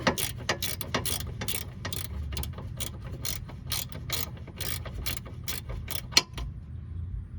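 A ratchet loosens the lower control arm nut on a 2004 Chevy Malibu, giving rapid close clicking in quick bursts with a louder metallic clack near the end and no speech.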